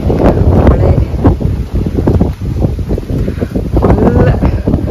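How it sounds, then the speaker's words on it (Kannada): Strong wind gusts buffet the microphone at a campsite in Switzerland, a continuous loud roaring rush with rain mixed in, close and steady throughout without pause. "ಸಿಕ್ಕಾಪಟ್ಟೆ ಗಾಳಿ, ಮಳೆ"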